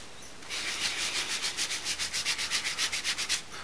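A brush scrubs a wash in small circles over the flat-coated surface of a scale model, giving a close, dry, scratchy rubbing with a steady pulsing rhythm that lasts about three seconds.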